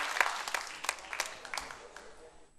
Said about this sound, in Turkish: Büyük bir alkış Ali amcama.